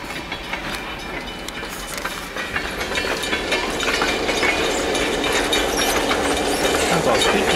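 An old town train rolls past with a steadily building rumble, rhythmic clickety-clack and high metallic squeals and hisses from the wheels, loud and close with no talk.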